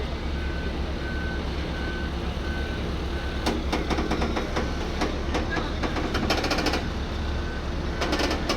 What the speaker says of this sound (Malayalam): ഇവിടെ ലാസ്റ്റ് ലോഡും കൂടെ ഇറക്കുന്നുണ്ട്